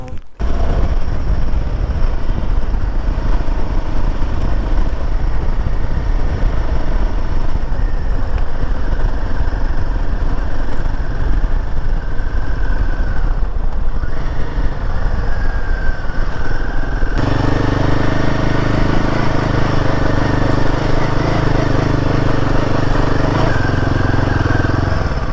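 A Royal Enfield Himalayan 450 motorcycle engine runs steadily on a long ride, a loud continuous mid-pitched drone close up with wind rush, the tone shifting partway through as the revs change.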